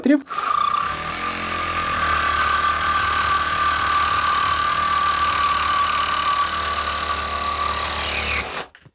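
A Parkside PKGA 20-Li C2 cordless 3-in-1 tool in saw mode cuts through an M10 steel threaded rod, a steady loud motor whine with grinding blade rasp running continuously for about eight seconds, then stopping.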